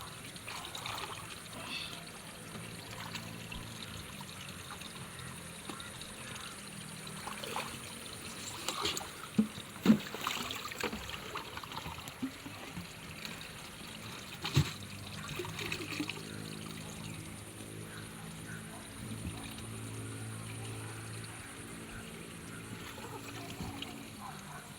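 Water scooped and poured into gallon containers at a cold freshwater spring, trickling and splashing in irregular bursts with a few louder sloshes, close by against steady outdoor background.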